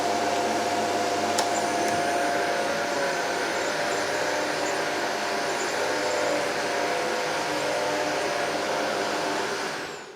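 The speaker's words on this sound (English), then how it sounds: "Let's give it a quick go on the hard floor." A Shark AZ950UK Powered Lift Away vacuum cleaner runs on hard floor with a steady, loud motor whine and airflow hiss, a couple of sharp clicks early on, then cutting off at the end.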